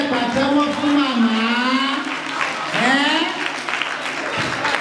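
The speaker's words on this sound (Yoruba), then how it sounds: "Ṣẹ̀bá mi pàtẹ́wọ́ fún màmá wa." Children applauding for Mama Oriki at a Children's Day event in Lagos, a loud continuous patter of clapping under a prominent nearby voice that talks and calls over it.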